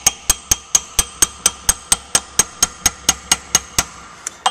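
A hammer strikes a chisel against a pump shaft sleeve on a close-coupled motor-mounted pump, making about sixteen sharp metallic taps at a steady, quick rhythm, loud and close with no talking.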